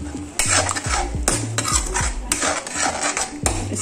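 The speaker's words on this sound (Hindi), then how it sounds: "इसको भून लेंगे अच्छे से।" Masala being stirred and roasted in a pan for shahi paneer, a metal spoon scraping and clinking against the pan in repeated strokes over a soft sizzle, close and clear with no voices.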